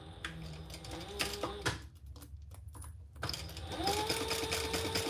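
A sewing machine bastes an eighth-inch seam on a small fabric piece, whirring in quiet runs broken by a short pause before starting up again.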